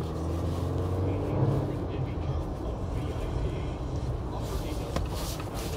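A 2025 Jeep Wrangler Rubicon is driving, heard from inside the cabin as a steady low engine and road rumble with a constant wash of tire and wind noise.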